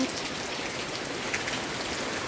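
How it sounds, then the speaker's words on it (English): Heavy rain pours down steadily, a dense, constant patter of raindrops hitting surfaces close by, with no voices over it. "when the rain drops, it makes a funny sound like"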